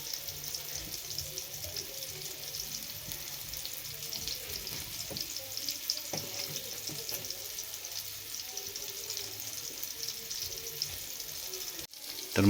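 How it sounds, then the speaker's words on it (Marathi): Semolina-coated fish fry on a flat pan over a wood-fired stove, giving a continuous bright sizzle with faint crackles and a few soft clinks, steady throughout with no talking. "एक एक मच्छी आपण तव्यामध्ये टाकायची फ्राय करण्यासाठी"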